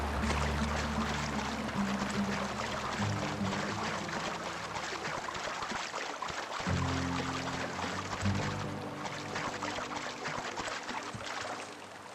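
Steady rushing water from a waterfall in the video game The Outer Worlds, a continuous broadband wash that stays even throughout, with some low ambient tones underneath and no talking.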